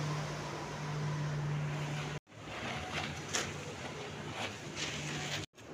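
Steady low engine drone and water wash of a tour boat on a lake at a resort, continuous and fairly near, with two brief cuts in the sound.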